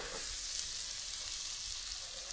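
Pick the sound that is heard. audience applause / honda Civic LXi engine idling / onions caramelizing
onions caramelizing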